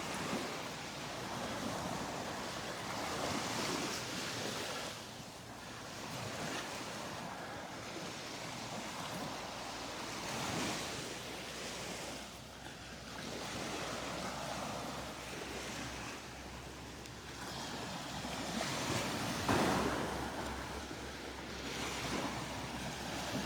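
Small waves washing onto a Gulf beach at Delnor-Wiggins on a foggy morning, a steady soft surf wash with faint wind noise, continuous and moderately close with no talking.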